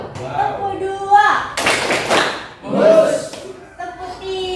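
A class of Indonesian pupils claps a short rhythm pattern on cue, two loud clustered bursts of many hands in unison, framed by children's chanting voices before and after.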